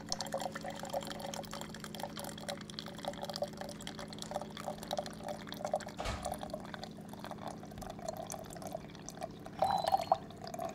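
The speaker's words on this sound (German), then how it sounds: "Ich bekomme mineralarmes Wasser von Raumtemperatur bis 95 Grad warm auf" Water trickles steadily from a reverse osmosis dispenser delivering low-mineral water at up to 95 degrees, a quiet continuous pour into a container for baby formula, close but faint and without talk.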